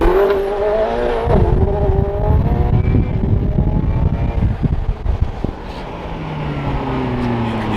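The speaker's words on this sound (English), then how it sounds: "This 720S Spider is like the most visceral experience because you can hear those turbos so well" A McLaren 720S Spider's twin-turbo engine roars loudly as it accelerates hard, the pitch climbing through gears with whooshing turbo air and rumble, heard from close inside.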